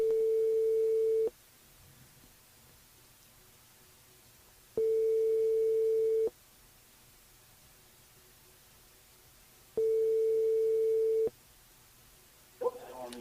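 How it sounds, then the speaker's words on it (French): A call-in radio show's phone line sounds a steady electronic tone in three long bursts of about a second and a half, each separated by several seconds of quiet hiss, with a brief clatter at the end. "On appelle Laetitia sur le standard."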